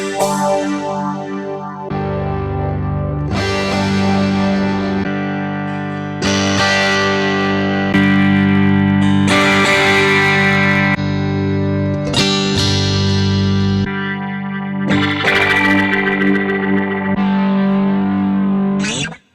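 Electric guitar played through a Boss GX-10 effects processor, with distorted sustained chords changing in sections and effect tails ringing over each change without gaps.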